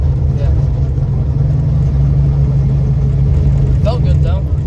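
A turbocharged 383 engine in a car runs with a loud, steady low rumble near the microphone, holding constant for several seconds before a brief higher whine near the end.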